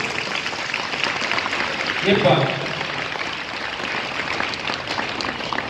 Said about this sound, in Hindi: ताली बजाने का जो मौका पड़े ताली बजानी है ईमानदारी से।